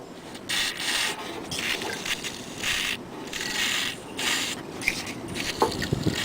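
An aerosol can of engine starting fluid shaken near an old Sears Craftsman lawn mower gives a loud, hissing rattle in regular bursts, about six shakes with short gaps between them, close by and with no voice.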